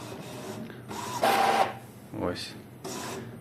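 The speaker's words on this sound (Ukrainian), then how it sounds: "З такою швидкістю він друкує." An Epson L3256 inkjet printer prints a photo, with mechanical whirring bursts, a sliding carriage sweep and clicking feed sounds in an uneven rhythm, close by, with some talk in the background.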